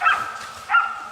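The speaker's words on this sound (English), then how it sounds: "The barking of the hounds signaled that the target was getting close." Hunting hounds on a wild boar hunt give two quick barks close together, fairly loud and clear against a quiet background.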